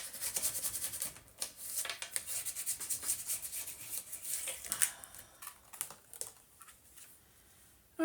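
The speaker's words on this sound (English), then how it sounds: "I'm going to turn it over and burnish." Paper being burnished with a tool on a mini album cover, a close, soft, continuous scraping rub with brief strokes throughout, no talking.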